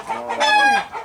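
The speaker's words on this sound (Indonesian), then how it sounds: "Ini ayam pejantan ya? Ayam KUB, Kampung Unggul ya, Balitbang." A KUB (Kampung Unggul Balitbang) rooster makes a single loud, close, drawn-out clucking call that rises into a strained crow-like cry lasting about a second.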